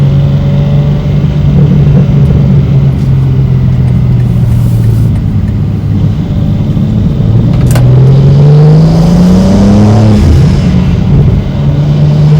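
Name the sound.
BMW G87 M2 engine revving with AWE intake, Sport mode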